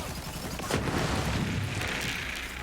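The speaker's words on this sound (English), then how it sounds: "Get that gratifying explosion at the end." Explosion in Borderlands 3 during a fight with General Traunt while playing as Amara, a burst of booming blasts and rapid gunfire that rises sharply and then rumbles on briefly under a talking voice.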